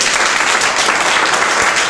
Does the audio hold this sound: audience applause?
yes